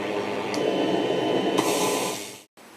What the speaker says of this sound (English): we get pulsing filtered noise